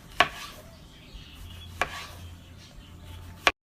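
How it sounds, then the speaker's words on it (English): A knife cuts through Roma tomatoes on a board in three sharp, separate strokes spaced well apart, each a brief crisp crack with quiet gaps between and no talking. "and then the tomatoes, we're using aroma, and we're gonna slice this up"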